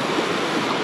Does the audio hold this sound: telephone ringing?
no